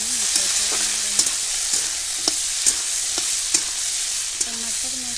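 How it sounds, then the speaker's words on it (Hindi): Potatoes fry in a pan with green peas going in, giving a steady loud sizzle with scattered scraping stirs and small clanks from a utensil, and no voices over it. "देखिए मेरे आलू भुजा का दम लाल हो गया है, इसमें अब मटर डालेंगे।"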